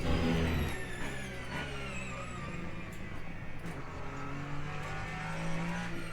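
A Ferrari race car engine at Silverstone drones steadily at high revs throughout, with pitch shifting gradually, heard continuously from inside or near the car without speech.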